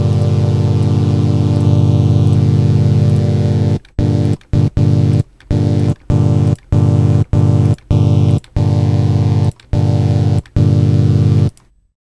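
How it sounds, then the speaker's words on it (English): A sustained synth note run through the D16 Group Repeater's modeled delay unit types in Ableton, holding a steady tonal drone with a low hum that is cut by a series of abrupt, rhythmic silent gaps in its second half. "just hold down your note and just try out these different delay unit types that are modeled"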